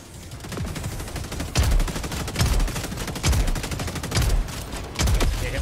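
Gunfire in the video game Helldivers 2 comes as a series of sharp bursts, several rapid volleys spaced about a second apart over a steady background of game noise.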